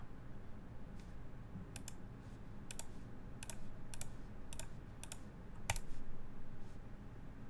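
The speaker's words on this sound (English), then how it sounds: "Clack keys." Keys clack on a custom mechanical keyboard with artisan keycaps, a handful of sharp separate strikes spaced unevenly over a low steady background hum, fairly close, no talking.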